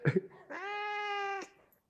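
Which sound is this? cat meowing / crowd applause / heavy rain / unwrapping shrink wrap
cat meowing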